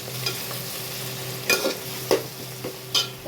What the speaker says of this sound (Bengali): এই আদা আর রসুন বাটা দিয়ে দিলাম